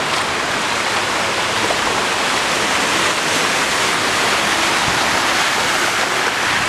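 Floodwater rushes through town streets at a street corner in Camaquã during heavy rain, a loud, steady broadband roar of pouring and flowing water that never lets up, with no voices over it.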